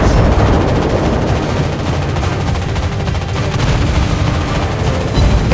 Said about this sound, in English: Another shot to bring them closer to death.